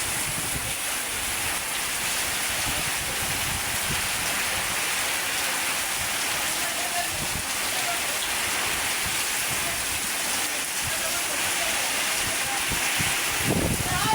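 Heavy rain pours down around a roadside shop area, a dense, constant hiss of drops drumming on surfaces close by, with scattered heavier splashes and a voice speaking now and then beneath the downpour.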